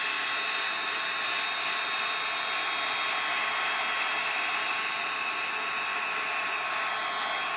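A heat gun blows steadily on card flowers that are being turned shiny gold, a loud continuous hot-air roar that holds even and unbroken from start to finish with no voices.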